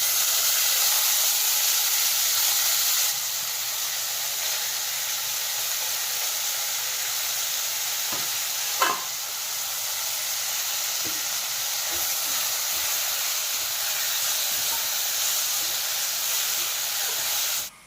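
Tamarind added to a pan with ginger-garlic paste sizzles and hisses steadily, the frying loud at first and then settling, with occasional stirring clicks and a sharp clatter midway.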